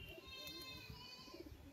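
Domestic pigeons cooing on a rooftop loft, soft low repeated coos close by over faint background chatter and ambient noise.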